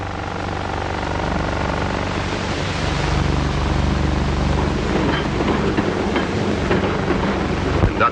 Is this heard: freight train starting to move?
yes